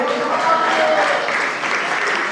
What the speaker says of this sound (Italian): Mi permetto soltanto di fare un applauso anche agli allenatori del settore giovanile